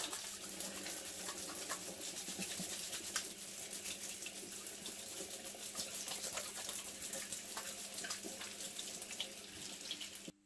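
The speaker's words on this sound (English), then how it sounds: "Okay, so let's just get washed up to start with." Water runs steadily from a kitchen tap into a sink as hands are washed before baking a coffee Victoria sponge cake, a continuous close splashing flow with no talk, cutting off abruptly at the end.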